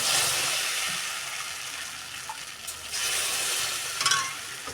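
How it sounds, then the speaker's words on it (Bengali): Flour batter for egg chitoi pitha poured into a hot oiled pan, giving a steady close sizzle and bubbling hiss throughout with a few soft stirring clinks, and no talking. "এই যে আমি এখন আটার গোলাটা দিয়ে দিলাম"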